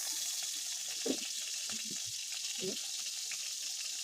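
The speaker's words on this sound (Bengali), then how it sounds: "আলু ভাজা হয়ে গেছে" Potatoes frying in oil give a steady, even sizzle, soft and close, with a few faint clinks and stirring sounds over the continuous hiss.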